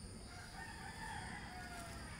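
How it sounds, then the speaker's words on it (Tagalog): Faint rooster crowing in the distance from a house roof before dawn, over a steady background hum and hiss. "Ang hilig nitong manok na ito magkalaykay ng bubong namin."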